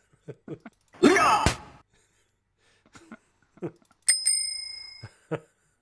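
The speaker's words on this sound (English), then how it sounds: "I like that bell." A bicycle-style bell rings twice in a quick pair, bright and ringing out for about a second, amid breaths, groans and vocal noises from people nearby.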